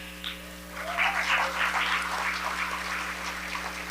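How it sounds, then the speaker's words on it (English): Audience at a foundation gala applauding its officers: faint, distant, steady applause that swells briefly and then holds, with a low electrical hum underneath. "You can give a round of applause."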